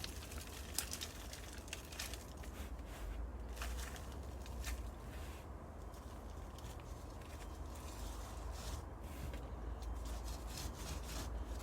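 Fine potting mix being sprinkled by hand into small seed cell trays for starting onion sets, a soft continuous granular rustle and patter close up, steady and low throughout with no voices.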